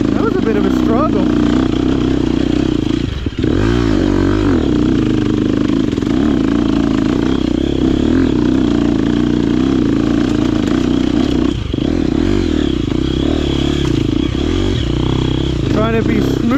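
A 2023 KTM 250XCF dirt bike ridden fast along a ridge trail, its engine droning steadily and loud throughout with brief dips as the throttle eases, then picks back up.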